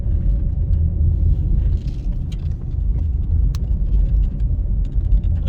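A car drives along Ruthven Road toward Waterloo Road, heard from inside the cabin as a loud, steady low engine and road rumble with small tire and rattle noises throughout.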